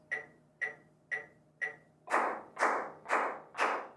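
A steady metronome ticks four times alone, then hand claps land squarely on each beat, covering the click with louder, fuller hits at an even tempo.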